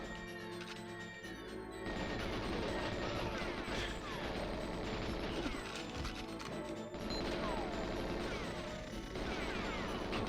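Security cameras shot apart in the video game GoldenEye, with dense crashing impacts and gunfire layered over busy game music, continuous and fairly loud throughout with no talking.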